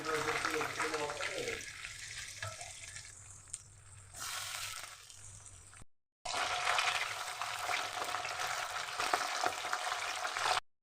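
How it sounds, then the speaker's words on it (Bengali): Pabda fish sizzling in hot oil in a pan, a steady frying hiss that fades briefly and then returns louder after a short gap, with faint background talk. "আর আমি মাছ ছেড়ে দিলাম কড়া"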